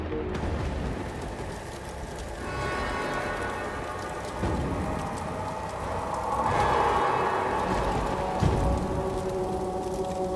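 Heavy rain pours down steadily during a storm, a dense close hiss with deep thunder rumbles swelling in the middle and again toward the end.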